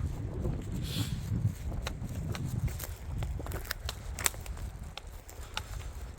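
Cold autumn wind rumbles and buffets through a forest during mushroom picking, a low, constant gusting roar with faint rustles and footstep-like crunches scattered throughout.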